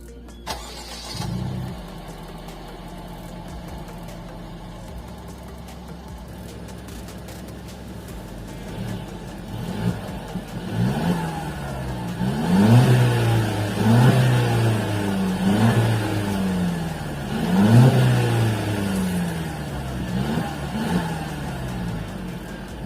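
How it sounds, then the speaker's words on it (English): A 2016 Mercedes C180 starts up, then its engine is revved repeatedly in rising and falling swells, with a moderate exhaust note growing louder in the second half. "Now when it comes to the exhaust note, it's not like a full-on AMG or a full-on Brabus type exhaust"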